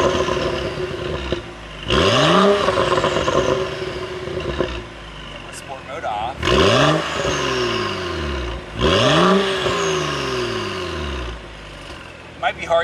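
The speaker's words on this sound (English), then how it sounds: "there's a massive difference in how loud it burbles and pops and bangs" A BMW 135i in sport mode, its exhaust revved in repeated sweeping blips that rise and fall in pitch, each followed by loud burbling and crackling pops, close and prominent, with quieter idling stretches in between.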